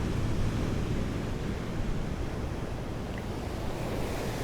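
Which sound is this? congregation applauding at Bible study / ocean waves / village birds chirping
ocean waves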